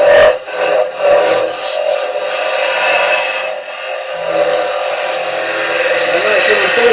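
Carbide chisel scraping a spinning workpiece on a wood lathe, a steady loud rasping hiss with a constant motor tone beneath, running throughout without pause.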